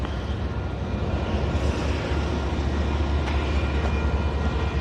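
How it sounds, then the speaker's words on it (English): A train leaving a rail yard after hours of switching back and forth produces a steady, heavy low rumble with constant broadband rolling noise, moderately close and continuous, with no talk over it. "the train has been back and forth a few hours working the yard. They are just now leaving the yard"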